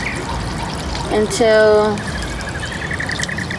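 Water poured over newly planted lettuce in the ground, a short splashing pour rising in the middle of the stretch while someone talks over it.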